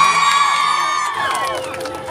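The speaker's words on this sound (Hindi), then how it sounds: "अपने अपने नाम पे भी ताली हो जाए।" Cheering and shouting from a college concert crowd fill about two seconds, loud and close at first and then easing off slightly, with scattered applause mixed in.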